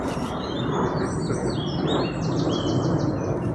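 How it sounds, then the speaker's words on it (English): Several birds sing and chirp continuously over a dense outdoor background, high bright trills layered on one another throughout. "you can hear all these lovely birds that are singing"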